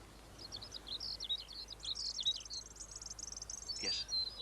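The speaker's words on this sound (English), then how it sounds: "listen to that bird" A skylark sings a rapid, continuous stream of high trills and chirps, faint and distant in an otherwise quiet outdoor setting.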